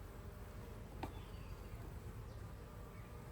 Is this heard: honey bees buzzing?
yes